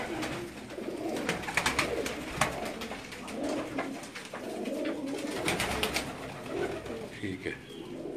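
Pigeons cooing in soft, repeated low calls amid outdoor rooftop ambience, with scattered clicks and rustles nearby.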